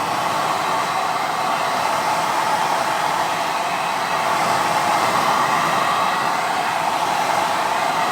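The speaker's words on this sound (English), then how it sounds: "Now I'm going to use a hairdryer." A hairdryer blows hot air to dry glue on a specimen jar, giving a loud, steady, unbroken whooshing whir that keeps its level from start to finish with no talking.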